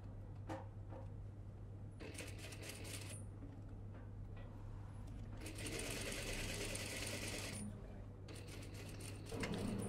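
A sewing machine stitches a seam on a dress in short bursts, starting and stopping several times, with a steady motor hum underneath and a few light clicks between runs.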